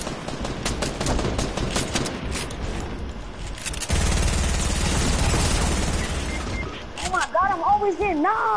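Dense bursts of rapid video-game gunfire crackle up close, sustained and heavy for several seconds before thinning out, with a player's voice faintly in the mix.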